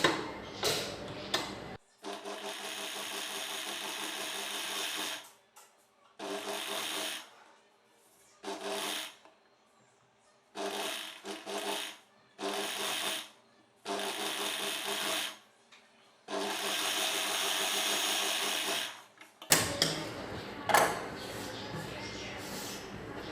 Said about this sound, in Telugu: లైనింగ్ పీస్ని లోపల వైపునకు ఫోల్డ్ చేసి మరలా పై వైపున ఒక కుట్టు వేసుకోవాలి.